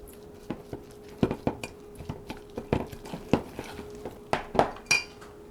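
Ssamjang sauce ingredients with honey mixed in a bowl, a utensil clinking and scraping against the bowl in a steady series of sharp taps and stirs, close and clear over a faint background hum.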